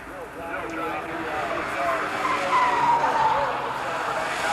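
Race cars in a 1980 Showroom Stock A national championship skid and squeal through a turn, a rising tire screech over engine roar, moderately loud with crowd ambience.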